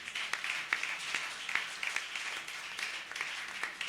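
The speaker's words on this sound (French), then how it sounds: "Est-ce qu'on peut s'applaudir, s'il vous plaît?" Audience applause at a gospel awards ceremony, a faint, steady patter of clapping heard from a distance for a few seconds.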